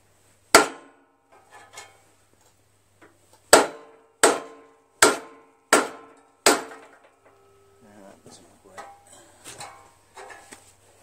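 Hammer blows on the flywheel of a Briggs & Stratton 17.5 HP engine on a Craftsman lawn tractor: one sharp metallic whack, then a quick series of five hard strikes, followed by quieter clinks of tools handling the part.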